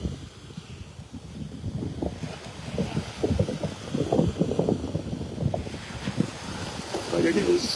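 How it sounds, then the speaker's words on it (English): Wind blowing across a beach on a windy morning, buffeting the microphone with a steady low rumble and rushing gusts that swell louder toward the end. "you're going to be hearing some wind"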